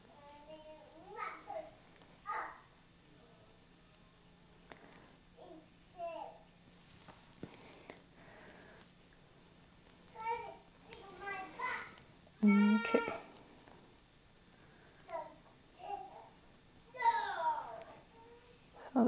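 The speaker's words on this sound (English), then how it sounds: "sorry if you can hear some toddlers in the background" Toddlers chatter and babble somewhere in a room during a watercolor painting session, short bursts of small high voices coming and going with quiet gaps between them, moderately faint.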